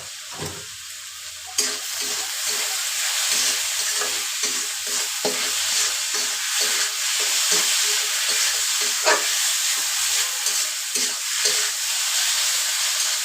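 Potatoes seasoned with salt, turmeric, coriander and chili powder fry in a pan with a steady, loud sizzle and hiss that continues throughout, with occasional soft stirring clicks.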